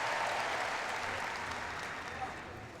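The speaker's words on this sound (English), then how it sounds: "Crowd gives him a big welcome." Crowd applause fills a gymnastics arena at the Commonwealth Games as a Scotland gymnast steps up to the pommel horse, a dense steady clapping wash that slowly fades, with a commentator's voice over it.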